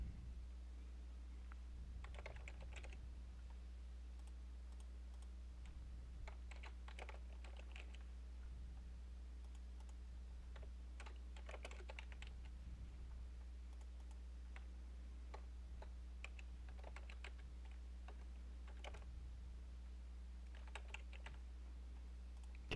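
Random names being typed on a computer keyboard into an Excel gradebook, heard as bursts of quiet clicking keystrokes in irregular runs over a steady low hum, with no talking.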